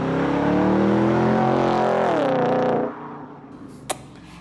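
A modified Audi S5's loud engine roars past up close, its pitch dropping as it goes by, then fades away quickly leaving quiet background.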